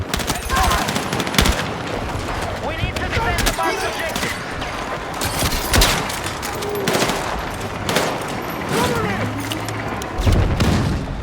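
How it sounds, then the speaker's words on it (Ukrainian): Rapid bursts of AK-205 assault rifle fire in the Battlefield 6 beta crackle continuously with sharp cracks and booms layered over a dense, noisy battle backdrop. "той самий АК-205 стріляє майже без віддачі"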